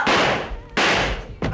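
Three loud, sharp gunshot-like bangs in a dramatic Italian crime drama, each a sudden broadband blast with a long decaying tail, evenly spaced about three-quarters of a second apart, the last one shorter and cut off.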